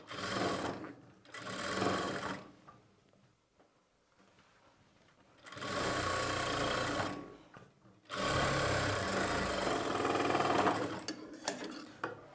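A sewing machine stitches thread piping onto a square neckline in three bursts of steady, fast whirring with quiet pauses between them, close up and without speech.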